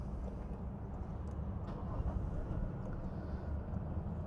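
A Toyota Hilux pickup, based on the Fortuner, runs its engine with a steady low rumbling drone heard from inside the cab, even and unbroken throughout.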